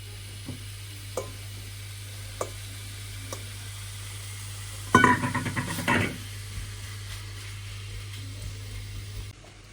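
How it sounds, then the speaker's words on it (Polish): Seasoned chicken meat goes into a heated frying pan with no extra fat. Faint ticks come first, then a sudden loud sizzle and crackle for about a second that eases into a low, steady hiss. "teraz na rozdzianą patelnię wrzucam mięso"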